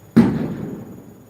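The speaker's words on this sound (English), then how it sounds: "they're selling fireworks since yesterday, so you can hear them bang so now and then" A single firework bangs once outdoors, a dull thump with a rumbling tail that fades over about a second, heard alone without talk.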